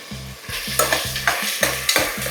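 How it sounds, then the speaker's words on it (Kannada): Sliced onions with biryani spices and a bay leaf fry in a little oil for tomato biryani, a steady sizzle broken by a run of rhythmic scraping stirs of a spoon against the pan, close and fairly loud with no talk. "ಈ ಎಣ್ಣೆಯಲ್ಲಿ ಫ್ರೈ ಮಾಡಲಿ."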